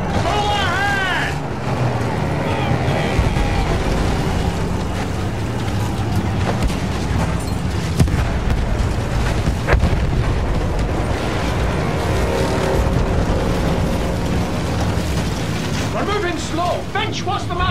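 A boat engine in Battlefield 1 runs at full ahead, a steady, loud, close mechanical rumble that holds throughout while voices talk over it at the start and end.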